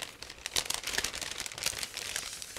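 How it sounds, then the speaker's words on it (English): Resealable plastic bag of an ICM 1/48 OV-10A Bronco Marine Corps model kit being opened, with close, continuous crinkling and crackling of plastic in irregular bursts and no talking. "open this resealable plastic bag"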